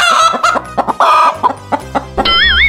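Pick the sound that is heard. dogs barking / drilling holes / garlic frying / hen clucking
hen clucking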